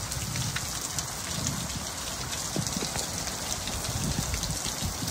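Steady rain pours down in Nevada, with scattered droplets pattering on nearby surfaces throughout; no voices, just a continuous wash of falling water.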